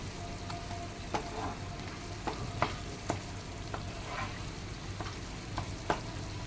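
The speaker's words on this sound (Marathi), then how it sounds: "परत सगळं आपण व्यवस्थित एकजीव करायचं." Schezwan chutney is stirred in a pan on the stove, with a steady low sizzle broken by regular spoon scrapes and taps about every half second to a second.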